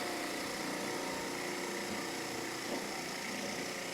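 Gouge cutting a wood finial on a spinning lathe, a steady high whirring hiss of the tool against the turning wood over the lathe's hum, close and continuous without talking.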